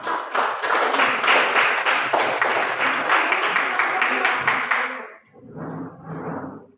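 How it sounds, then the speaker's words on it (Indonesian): Group applause from teachers in a classroom session, dense clapping that runs steadily for about five seconds and then stops, followed by a short stretch of talking. "tepuk tangan untuk Prof."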